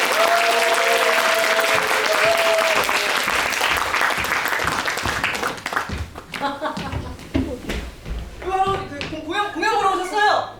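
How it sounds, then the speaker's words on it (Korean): A theatre audience claps loudly before a staged reading begins, a dense burst of applause with a few voices over it that fades after several seconds into scattered claps and people talking nearby. "관객분들의 커다란 박수와 함께 배우분들 모시면서 공연 시작해 보도록 하겠습니다. 네, 큰 박수 부탁드립니다."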